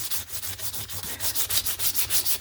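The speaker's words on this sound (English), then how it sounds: "it was to sand it down till you could start seeing some white" Dry 120 grit sandpaper scraping back and forth over layered paper collage, a steady run of quick rasping strokes, close and fairly loud, with no voices.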